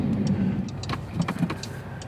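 A red car's engine revs and drops through a downshift, a loud close mechanical drone with brief pulses and clicks riding on a heavy low rumble.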